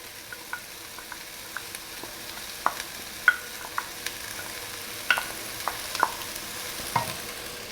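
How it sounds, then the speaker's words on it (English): Rinsed lentils go into a pot of vegetables and spices, followed by soft sizzling and frying with scattered light clicks and scrapes of stirring, quiet and close, with no talking. "I'm going to add the lentils, which I have rinsed already."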